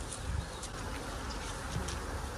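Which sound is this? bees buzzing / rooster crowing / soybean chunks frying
bees buzzing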